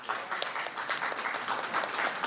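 An indoor audience claps steadily at a public information meeting on health care, a dense patter of many hands heard from a distance, moderately quiet, with no talking.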